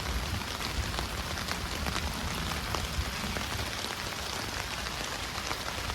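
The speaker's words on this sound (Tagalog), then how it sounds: "Lakas ng ulan." Heavy rain pours down steadily at a campsite in Tagaytay, a dense continuous hiss with scattered drops pattering on nearby surfaces, no voices.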